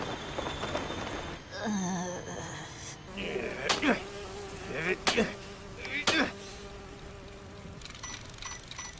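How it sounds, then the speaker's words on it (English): Insects buzzing on a hot day in an anime scene: a close, droning flylike buzz that wavers in pitch, mixed with sharp brief sounds and a faint background hum. "Damn bugs."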